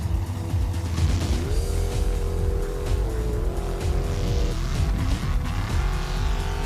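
A four-wheel-drive race vehicle fitted with paddle tires drives up a volcanic slope, its engine revving loud and close with rising and shifting pitch and a steady mechanical roar throughout.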